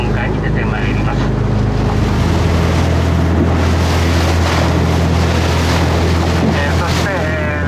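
Sightseeing boat cruising through a calm bay off the Oki Islands near Rosoku-jima, its engine droning loud and steady with heavy wind buffeting the microphone and a voice talking underneath.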